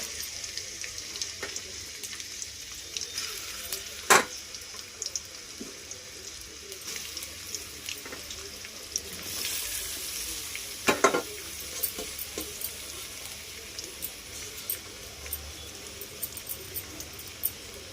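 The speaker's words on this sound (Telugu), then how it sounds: "నూనె వేడి కాగానే దొండకాయ ముక్కలు వేసుకోవాలి" Pieces of ivy gourd (tindora) fry in a generous amount of hot oil with a continuous soft hiss. Occasional sharp clicks and scrapes come from stirring in the pan close by, and no one speaks.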